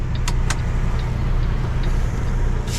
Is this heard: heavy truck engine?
yes